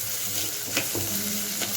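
Low, steady sizzle of onions sautéing in a pan, with a few soft stirring scrapes breaking through the crackle.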